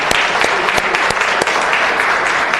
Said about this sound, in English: let's give these lovely ladies a big round of applause for everything they do